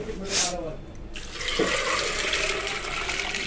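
Water is poured over soaking dried peas and chickpeas in a vessel, a steady splashing rush that picks up and continues to the end.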